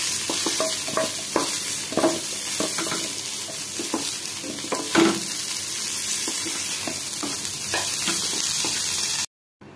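Sliced onions with bay leaf frying in hot mustard oil in a kadai, giving a steady close sizzle with repeated scraping and stirring strokes throughout until a sudden stop near the end.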